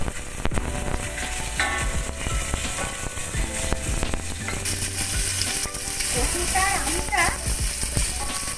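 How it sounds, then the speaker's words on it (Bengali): Salted taro pieces fry in hot oil in a pan while being stirred, with a steady close sizzle and scraping strokes throughout and a brief surge of crackle near the end. "নুন দিয়ে কচুগুলো দিয়ে দিলাম"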